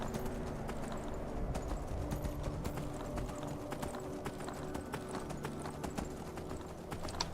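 Steady clip-clop of horse hooves at a brisk rhythm in the video game Skyrim, over a dense background rumble, fairly close, with no one speaking.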